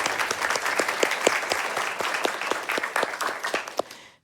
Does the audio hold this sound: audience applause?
yes